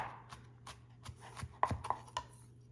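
A knife chops food on a cutting board in a home kitchen, a quick irregular series of faint taps, a couple of sharper knocks in the middle, heard close with no talking.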